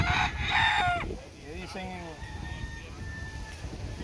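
Roosters crow repeatedly at a gamecock gallery, their loud drawn-out calls overlapping near and farther off, while a voice speaks over them in Spanish.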